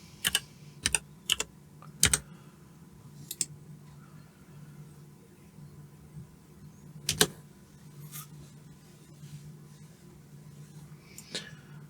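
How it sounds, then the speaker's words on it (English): Clicky keystrokes on a computer keyboard as a command is entered, several quick taps in short bursts with pauses between, close and fairly quiet in a calm room. "So you type the set-inform."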